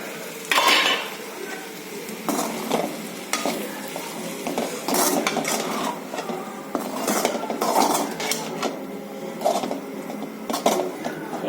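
Sabudana khichdi being stirred in a kadhai for a fasting-day dish, a steady run of scraping spoon strokes and metallic clinks against the pan with light sizzling, close and moderately loud, no voices.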